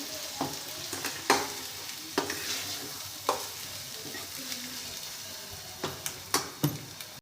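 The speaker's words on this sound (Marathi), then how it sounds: "याला पण चांगला तेलात साधारणतः 2 ते 3 मिनिटं शिजवून घ्यायचं आहे।" About two spoonfuls of chili powder cook into a paste in oil with a soft, steady sizzle, punctuated by a dozen sharp scraping clicks of a spoon stirring against the pan.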